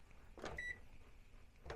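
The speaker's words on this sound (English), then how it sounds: "I wonder if we can do the microwave." Microwave oven powered by an OUPES Mega 2 2500W solar power station, with brief beeps and a faint steady hum from nearby, two short tonal bleeps separated by quiet running.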